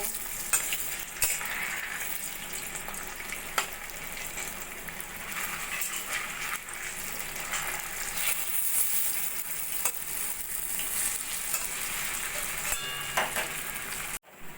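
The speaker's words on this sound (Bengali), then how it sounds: "সব মোচার কোপ্তাগুলো আমি ভেজে নেব" Banana flower (mocha) koftas fry in hot oil, giving a steady, close, crackling sizzle that runs on evenly without any talk.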